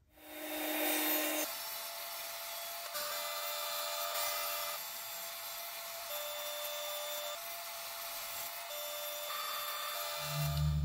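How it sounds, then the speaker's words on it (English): A table saw cuts plywood sheets into cabinet parts, its steady motor drone and blade hiss running continuously at moderate level with slight shifts between passes. "now we're gonna move over to the table saw and break things down further"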